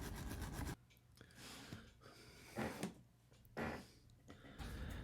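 Brass bristle brush scrubbing the metal base of a Hot Wheels car, several short, raspy scrubbing bursts separated by pauses, close and fairly quiet, with no talk.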